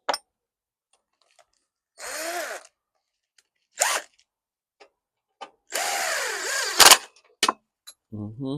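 A DeWalt power drill runs in several separate bursts of a second or less amid quiet pauses, near and fairly loud, used while working on a 2011 Troy-Bilt 21-inch walk-behind lawn mower.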